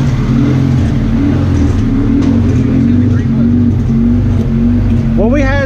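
A naturally aspirated Honda K-series engine with a 2.4 bottom end and 2.0 head, running a steady, loud, droning baseline pull on a dyno, with a quick rising rev near the end.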